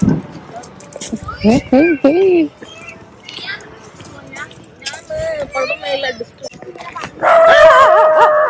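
Dogs on an outdoor walk bark and yip in short bursts, some whimpering, mixed with frequent close talking.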